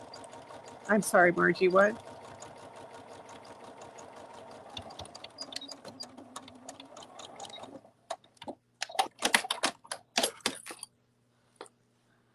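A sewing machine stitches fabric for a cuddle bunny in a short rapid burst near the start, then a softer steady hum with scattered clicks and handling noises, while a person talks over it.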